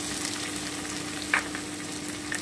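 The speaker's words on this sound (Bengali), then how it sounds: "এবারে আমি বেগুনটা দিয়ে দিচ্ছি। আমি আরেকটুখানি ভেজে নেব।" Eggplant frying in a pan of oil for spinach-stem ghonto, a steady sizzle with a couple of brief sharper spits, no talking.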